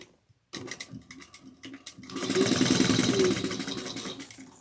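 Sewing machine running close by as it stitches down the sides of a tote bag at a 3/8-inch seam, starting abruptly after a brief silence with a short run, then a steadier, louder hum of rapid stitching.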